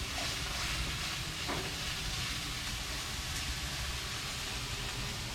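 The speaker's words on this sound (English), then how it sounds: "start browning the ground beef" Ground beef (90/10 lean) browning in a little oil in a cast iron pan on a camp stove, giving a steady, moderately loud hiss and sizzle that holds level throughout, with no voices.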